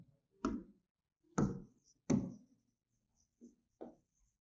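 Pen writing on paper during a math lesson on comparing quantities, five short scratchy strokes spaced apart, close and quiet, with no talking.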